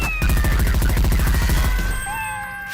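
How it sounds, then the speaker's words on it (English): In a modded Half-Life 2 game, a rapid burst of gunfire runs into a Tom and Jerry cartoon sound effect that marks a kill, with a cat-like yowl and sliding whistle tones that fade out at the end. "The Tom and Jerry sound effect also lets me know when I get a kill."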